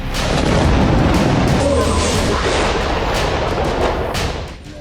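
Bombing explosions strike the Ain Yaakoub area of Akkar in northern Lebanon, a loud, deep, rolling boom that swells and then slowly fades into a long rumbling roar.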